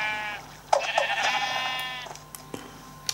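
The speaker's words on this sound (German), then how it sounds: "Schäfchen. Hallo, Schaf." Sheep bleating in the Minecraft video game, a few short nasal bleats close by, one after another, alone without any talk.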